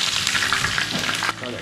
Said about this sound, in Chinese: 鱼烧热了，放入葱酱